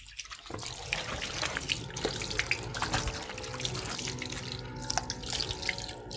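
Water sprays and splashes steadily while a Rottweiler is bathed, a close, continuous hiss with irregular drips and splatters throughout.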